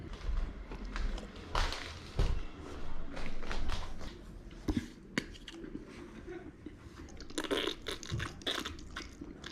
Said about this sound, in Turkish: Gerçekten çiğnemekten yoruldum biraz